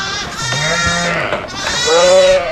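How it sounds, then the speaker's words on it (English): Sheep and newborn lambs bleating together in a farm group, several overlapping wavering cries close by and loud, with a low bleat and higher lamb calls answering one another. "they're kind of noisy as they're sorting out who their mom is and who their lambs are"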